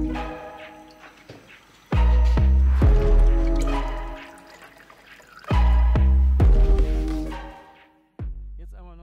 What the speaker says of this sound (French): Je vais le tourner en position 4 et l'huile va sortir.